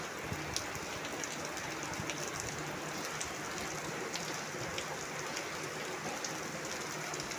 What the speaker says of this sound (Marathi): आणि आता मोठा पाऊस पडायला सुरुवात झालेली आहे